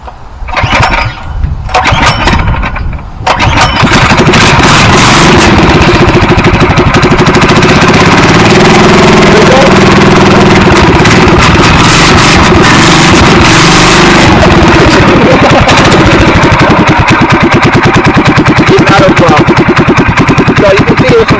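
Harbor Freight Predator small gasoline engine pulling to start after a few brief tries, then running loud and steady at a constant roar close by, with a hint of mechanical vibration.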